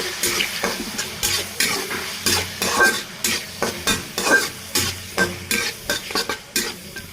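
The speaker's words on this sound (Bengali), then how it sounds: "এটাকে ভালো করে লাল লাল করে ভেজে নেব" Chopped onion frying in oil with ginger, cumin and garlic paste, a steady sizzle broken by a rhythmic series of spoon scrapes against the pan, close and fairly loud.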